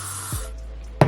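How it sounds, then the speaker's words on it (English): A can of hair spray hisses in a short burst onto soft bangs, followed by a quiet pause and a second brief spritz. "Now I think I want to spray this"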